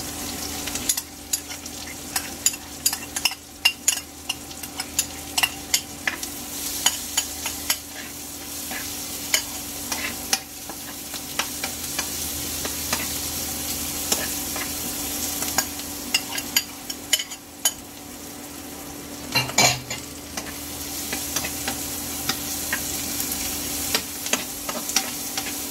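Garlic and onion sauté in oil for beef mechado, a continuous close sizzle with repeated clacks and scrapes of a spoon stirring around the pan, with no voices.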